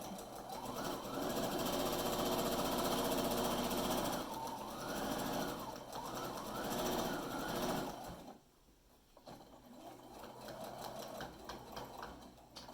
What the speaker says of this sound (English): you sew past where you started and backstitch